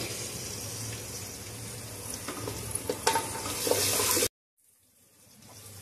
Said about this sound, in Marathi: याला भाज्यांना आपण परतून घेऊया।